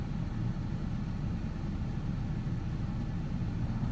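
A Ford Ranger engine idles high with the AC on, a steady low rumbling drone with slight RPM hunting, recorded close and alone.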